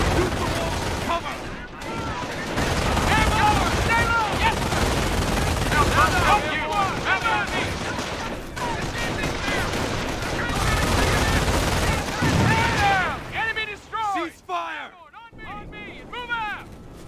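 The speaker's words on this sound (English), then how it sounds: "They're shooting at us!" Gunfire rattles through a World War II battle in the video game Company of Heroes near Vierville and Omaha, with dense, sustained machine-gun and rifle bursts throughout. Soldiers shout over it, and it thins toward the end.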